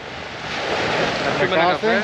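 Sea surf washes steadily against the shore during a night of fishing for sea bream, a continuous broad rush mixed with wind buffeting the microphone, with a voice starting to speak near the end.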